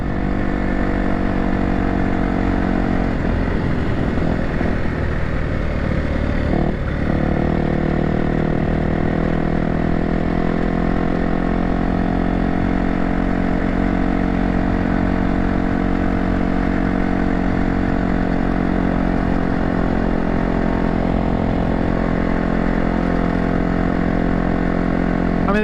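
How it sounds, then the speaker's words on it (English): An off-road trail bike idles in a steady, loud, throaty rumble outdoors in the country, with a brief rev and clatter of throttle blips early on before it settles back to an even idle. "this is a trail bike after all"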